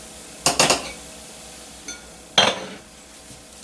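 A small spoon scooping a tablespoon of butter, close clinks of metal against a dish, two short clusters of taps roughly two seconds apart.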